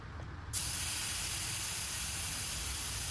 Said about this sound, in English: we're gonna take air out of this tire